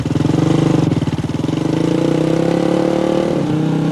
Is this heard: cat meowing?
no